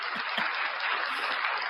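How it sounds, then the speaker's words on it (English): Audience applause for a live talk show fills a brief burst as dense, even clapping, loud and steady with no voices. "Let me give y'all a round of applause."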